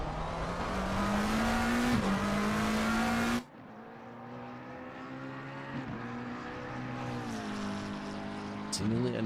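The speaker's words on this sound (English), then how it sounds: "Alan Pina driving for Inspire, the number 91 car coming into Woods 1." Race car engine in Assetto Corsa Competizione, the number 91 car braking into the Monza chicane: a loud sustained engine drone that drops sharply on the downshift, then a lower engine note rising again as it accelerates, with commentary over it.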